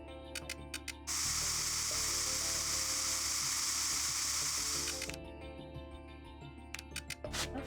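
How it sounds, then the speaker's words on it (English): A continuous hiss of spray at a crime scene in the Trauma Team video game runs for about four seconds, loud and steady, with brief clicks and electronic game tones before and after. "Let's do a little bit of spraying."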